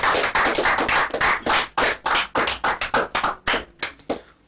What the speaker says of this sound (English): So let us give him another clap offering.